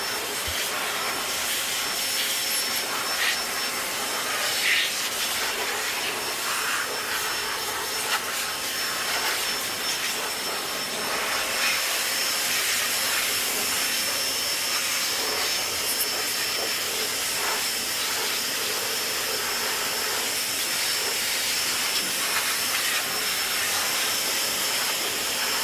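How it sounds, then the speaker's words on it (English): Forced-air blower drying a freshly washed car, a steady loud rushing hiss of air that holds unbroken and close throughout, with no voices. "give me a minute or two to dry it with forced air"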